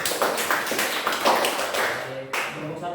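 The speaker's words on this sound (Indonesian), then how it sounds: "Tepuk tangan untuk kelompok 2 dulu" Short burst of classroom applause from students clapping for a presenting student group, uneven claps running about two seconds before tapering off, with voices over it.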